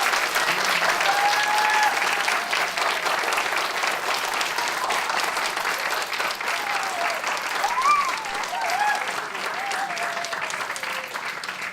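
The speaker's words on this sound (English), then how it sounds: "So please give our youth committee a big round of applause." An audience at a city State of the City address gives sustained, dense applause lasting over ten seconds, with a few cheers and whistles rising from the crowd.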